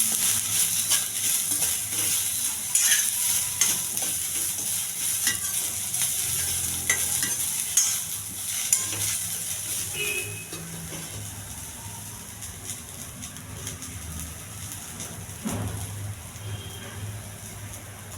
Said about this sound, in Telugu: కొత్తిమీర ఇది కూడా వేయించాలి.